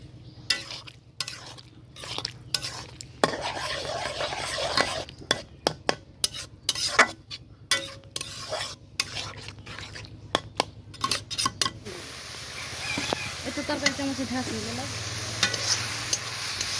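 Banana flower being stirred in a pot of boiling water, with close, repeated scraping and clinking of a utensil against the metal pot over a bubbling simmer, steadier boiling toward the end.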